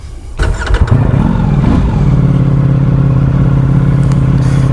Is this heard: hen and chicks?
no